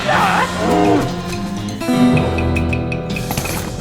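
A calf in the West of Loathing video game moos loudly and repeatedly in drawn-out, wavering calls, with no voices present.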